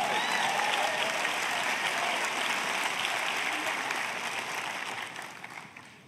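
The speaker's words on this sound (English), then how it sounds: "you need to clap better than that" A church congregation claps hard and continuously, a thick, even roar of many hands that gradually tapers off toward the end.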